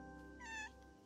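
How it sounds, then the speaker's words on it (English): A cat meows once in the video game Calico, a single short, clear mew over a steady hum of game music. "Where's the little fat cat?"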